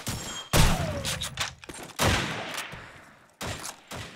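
Loud bursts of shotgun fire from the Call of Duty 2 video game, several sharp blasts with decaying echoes spaced about a second apart, no talk.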